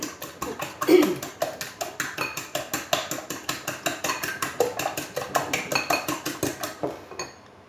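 A whisk beats a fish terrine mixture against a bowl in rapid, even strokes, each one a sharp metallic clink, close and continuous for several seconds before stopping abruptly.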